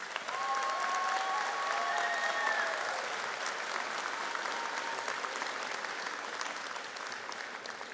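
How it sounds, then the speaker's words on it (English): Steady applause from a convocation audience at a Cape Breton University spring graduation ceremony, sustained and even across the whole stretch with a faint whistle-like tone early on. "I think they deserve a round of applause."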